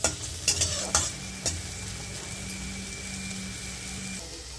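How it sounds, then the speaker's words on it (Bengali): Green chilies and chopped onion frying in a pan, a few sharp spoon knocks at first, then a continuous gentle sizzle over a faint steady hum, heard up close with no one speaking. "লঙ্কা এগুলোকে একটু ভেজে নেওয়া হবে"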